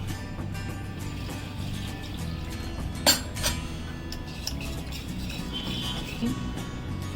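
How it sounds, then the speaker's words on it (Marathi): Millet flour being stirred into water in a bowl, with a spoon clinking against the vessel a few times, loudest about midway, over a steady low background hum. "तोपर्यंत आपण खाली हे पीठ पाण्यामध्ये चालवून घेऊया पातळ करून घेऊया पीठ"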